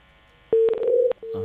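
Telephone keypad dialing tones during a live phone-in broadcast: a steady tone followed by a rapid run of several short beeps, a brief pause, then another sustained tone, fairly loud and without talk.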